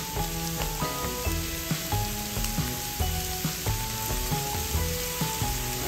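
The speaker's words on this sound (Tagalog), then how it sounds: "Ngayon, nagpipimpis na yung ating hipon." Shrimp sautéing in a pan for fried rice, a steady sizzle running the whole time with a bed of music playing over it.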